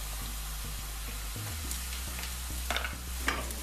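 Onions, garlic and ginger fry for Punjabi chole, giving a steady, loud hiss of hot oil with a few soft clinks of stirring near the end, close up and without speech.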